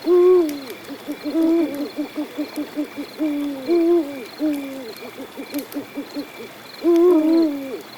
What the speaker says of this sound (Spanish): el canto del búho volvió a resonar.